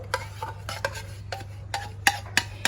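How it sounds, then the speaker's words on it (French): Sweetened condensed milk and eggs beaten in a bowl, giving a run of brisk, irregular scraping and clinking strokes over a steady low hum, no voices. "je vais le mélanger avec mes œufs. Et je vais battre tout ça, mais vraiment vigoureusement"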